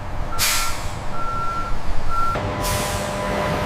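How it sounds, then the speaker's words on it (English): A truck backs up to the intake bay of a strawberry juice processing plant, its steady reversing beeps sounding over a low diesel rumble, with a sharp burst of air-brake hiss in the middle and again near the end. "The truck aligns with the intake bay."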